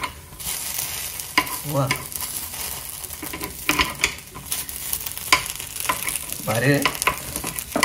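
Appe sizzle and fry in a pan while being flipped with a spatula, steady crackling frying under scraping stir strokes, with a voice speaking briefly in Marathi.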